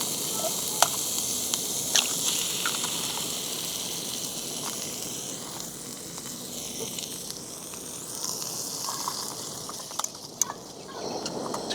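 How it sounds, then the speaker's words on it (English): An egg frying in a pan on a portable camping stove, with a continuous close sizzling hiss and a few sharp pops and crackles scattered throughout. "All right, let me get the egg in there."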